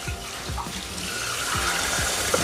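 Water pours steadily into a pot of lentils being cooked with coconut milk, a continuous close splashing stream.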